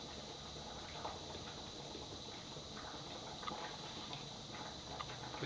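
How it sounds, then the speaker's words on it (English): Tortilla soup boiling hard in a pot, a steady low bubbling simmer with scattered small pops and ticks, faint and continuous, with no talking. "It's still boiling pretty hard."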